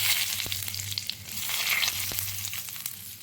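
Cumin seeds and bay leaves sizzling in hot oil in a wok, a bright close hiss with a few sharp pops and spatters over a low hum, brief and without speech.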